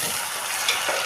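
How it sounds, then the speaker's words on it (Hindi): Garlic ginger paste fries in hot oil with a close, steady hiss and no distinct stirring strokes. "ये हमने लहसुन अदरक का पेस्ट डाल के इसको थोड़ी सी भुनाई करेंगे, भूनेंगे गाइस।"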